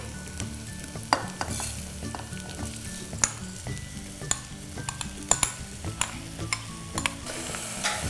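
Washed rice scraping and stirring with onions in a hot pan for ghee rice, with steady sizzling, broken by sharp clinks of a spoon against metal.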